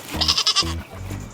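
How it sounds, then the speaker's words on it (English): A goat lets out a short burst of low, throaty grunting belches, three quick voiced pulses close to the listener over about a second. "Did you just burp in my face?"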